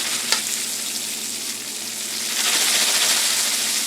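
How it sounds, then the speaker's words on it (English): Corn kernels in an old-style popcorn maker give a steady, dense sizzling hiss with scattered sharp pops, the crackle thickening and growing louder partway through. "I can hear the popping."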